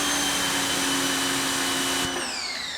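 A Westinghouse EPX3050 electric pressure washer sprays through a 25-degree nozzle, a loud steady motor whine and hiss close by that drops off as the trigger releases near the end.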